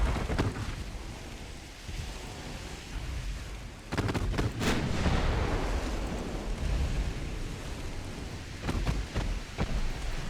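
Heavy 12-inch naval gun hits rumble in the Ultimate Admiral: Dreadnoughts battle, with a sudden deep crash and sharp crackles, then a loud, dense roar that rolls on under washing sea and wind noise.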